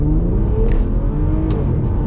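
An Aston Martin DB9 pulls away hard from a stop sign on Miami roads, its engine note climbing in a steady, loud, continuous drone heard from inside the car, with no one talking.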